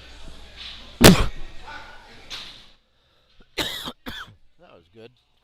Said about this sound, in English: Cough right in the frickin' mic.